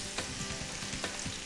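Leeks frying gently in rice oil over low heat, a steady soft sizzle with faint crackles and occasional stirring scrapes, close and continuous.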